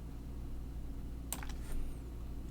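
Ctrl and Shift keys pressed on a computer keyboard alongside a mouse click, a short cluster of crisp taps near the middle over a quiet room hum, then silence.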